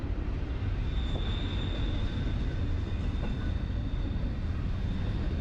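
A train rolls past at night in the town area of Stockbridge, Georgia, a steady broadband rumble with faint wheel squeal, heard from nearby and continuous throughout.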